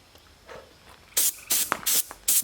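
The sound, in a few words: compressed air blowing off a sanded guitar body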